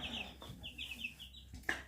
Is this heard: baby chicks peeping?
yes